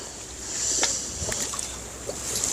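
A fishing boat out on the open sea for cuttlefish backs up slowly, heard as a steady wash of wind and water with soft sloshing and a few faint knocks on deck.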